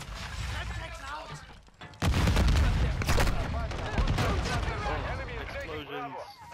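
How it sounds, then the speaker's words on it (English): Blasts and rapid gunfire erupt in a chaotic video game battle, with a loud burst of bangs setting in partway through and continuing in dense, overlapping volleys while a voice talks over it. "Explosions."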